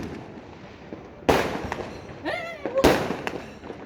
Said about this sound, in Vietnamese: Pháo sáng bắn lên trời thấy không?